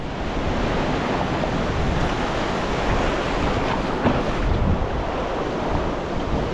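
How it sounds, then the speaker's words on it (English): Small ocean surf breaks on a beach at Spirits Bay, a steady wash of waves with wind buffeting the microphone, continuous and fairly loud throughout with no voices. "The surf looks nice and small, which is good."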